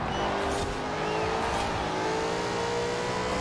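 A 2015 Lexus RC F engine held at full throttle in third gear in Forza Horizon 4, a steady loud racing drone with a faint tire squeal as the car slides slightly.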